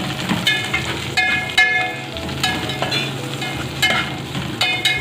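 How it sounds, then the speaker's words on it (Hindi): Shredded cabbage stir-fried with pasta in a little oil, a continuous close sizzle with repeated scraping and clinking of a utensil against the pan, no voices. "अब हम इसमें जो है बंद गोभी ऐड करेंगे। और इसको हला लेंगे अब हल्का हल्का से।"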